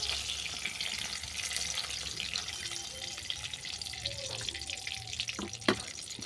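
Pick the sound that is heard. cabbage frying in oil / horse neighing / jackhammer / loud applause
cabbage frying in oil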